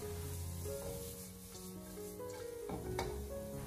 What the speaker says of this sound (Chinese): 再将切好的胡萝卜丝放进来，继续的开小火将胡萝卜丝煸炒几下